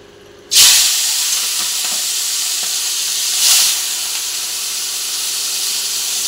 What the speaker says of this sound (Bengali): তেল গরম হয়ে গেছে, এবার আমি লবণ হলুদ মেখে রাখা মাছগুলোকে দিয়ে দেব।